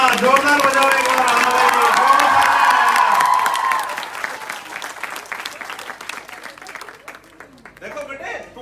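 An audience at a comedy show breaks into loud, sustained clapping and cheering that tapers off into scattered claps, with a performer's voice coming through near the end.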